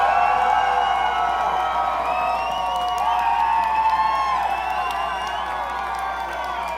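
Large event crowd cheering and whooping loudly and continuously, with shouts and whistles rising out of a dense roar that fades slightly toward the end.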